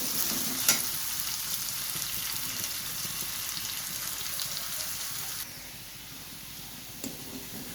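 Chopped onion and garlic frying until red-brown in a pan, a continuous hissing sizzle that drops slightly quieter partway through, with a couple of brief clinks.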